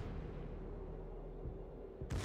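Battleship main-battery gunfire from the Tirpitz in World of Warships, a sharp broadband blast near the end cutting through a steady low rumble of ship and ocean ambience.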